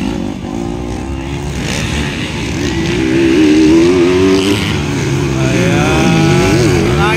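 Pro Lites motorcycle racing at Nuro, Upi, Maguindanao: several bikes buzz and rev loudly at close range, engine pitch rising and falling as they accelerate past, with a commentator talking over them.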